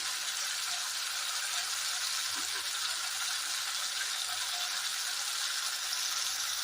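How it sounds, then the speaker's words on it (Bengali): Spice paste with turmeric frying in a pan for a green jackfruit curry, giving a soft, even sizzle that hisses steadily and faintly without pause and without talk. "মশলাটা এবার ভালো করে কষাবো।"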